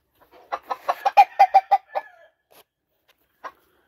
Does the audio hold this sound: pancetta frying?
no